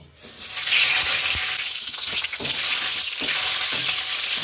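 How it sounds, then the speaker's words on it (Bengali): Onions fry in mustard oil in a kadai with a loud, continuous sizzle that swells quickly and holds steady, with faint stirring scrapes close by. "পেঁয়াজগুলো ভেজে নেব।"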